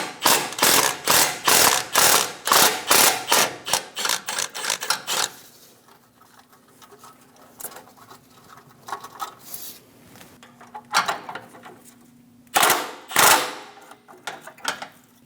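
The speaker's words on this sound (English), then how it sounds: "Using a 10mm socket, we're going to remove the nuts for the heat shield." Ratchet wrench with a 10mm socket clicks in rapid bursts while loosening heat shield nuts on a 2011-2018 Ram 1500 5.7L V8 during exhaust manifold work. Loud, close pawl clicking runs for about five seconds, then gives way to quieter handling and a few later clicks.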